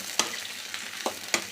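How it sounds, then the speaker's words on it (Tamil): Bitter gourd slices frying in a pan for a Tamil stir-fry, a soft continuous sizzle with three or four distinct scraping stirs of a spatula, close and alone. "நல்லா வறுத்துக்கிட்டே இருக்கலாம் ஃப்ரெண்ட்ஸ்"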